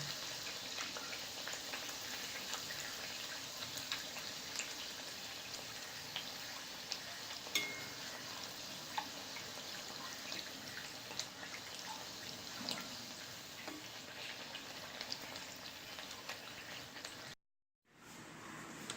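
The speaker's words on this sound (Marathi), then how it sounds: "थोडं थोडं तेल उडवत राहा जेणेकरून पुरी फुलेल" Puris frying in hot oil, with oil spooned over them so they puff, make a soft, steady sizzle and crackle of fine bubbling that goes on without pause before cutting out briefly near the end.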